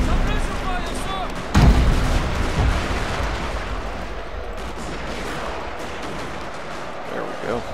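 Infantry musket fire in Shogun 2 Total War at the Battle of Toba-Fushimi, 1868: a dense battlefield roar of overlapping shots, with a heavy blast near the start and a chaotic fusillade continuing beneath voices.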